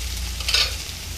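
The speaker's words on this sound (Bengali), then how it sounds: "এরকম ভাজতে ভাজতে কচুরলতিটা একদম মজে যাবে" Taro stolons frying in a pan for a vegetarian dish, a continuous close sizzle with a low steady hum underneath and one brief louder hiss of stirring in the middle.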